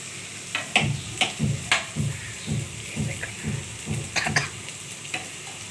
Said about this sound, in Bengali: দেখুন মাছটা ভাজা হয়ে গেছে